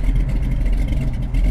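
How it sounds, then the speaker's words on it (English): A 1969 Chevrolet Camaro SS engine gives a brief, light rev to about 1500 rpm, a close, loud low rumble that swells and eases over a second and a half. "I don't want to rev it right now. You can rev it just a little bit."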